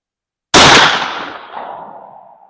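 One sharp, loud shot from an H&R rifled 32 gauge shotgun firing a 225-grain slug outdoors, bursting after a half-second of silence and trailing off in a long fading echo.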